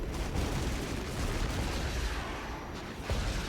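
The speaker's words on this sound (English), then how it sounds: "See us dropping some cluster bombs." Cluster bombs burst across the battlefield in a realistic real-time strategy war game, a dense, continuous barrage of crackling blasts and booms with a few sharper impacts standing out near the end.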